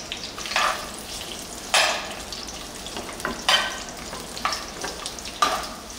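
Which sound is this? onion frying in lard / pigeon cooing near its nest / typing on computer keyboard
onion frying in lard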